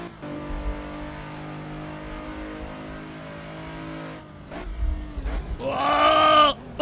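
A car driven in a racing video game, a steady engine drone that drops and then surges into a loud rising rev near the end, with a brief voice cutting in.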